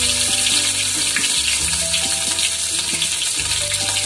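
Green chilies frying in a hot pan, a loud, steady sizzle and hiss close up, with tonal music playing underneath.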